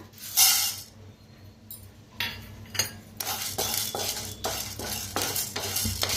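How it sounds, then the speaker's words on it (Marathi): Dry chana dal is stirred in a hot pan, producing rattling, scraping bursts of grains and a metal spoon against the pan, coming in uneven waves. "आता हरभऱ्याची डाळ भाजून घेऊया"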